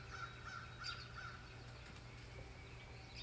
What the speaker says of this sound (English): the crows are laughing at me